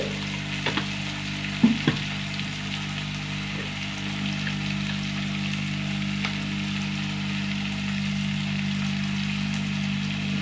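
Turmeric powder is sautéed in a hot pan, with a steady, even sizzle running throughout and a few sharp spoon scrapes near the start.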